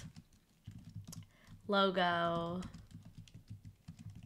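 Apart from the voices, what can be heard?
typing on a computer keyboard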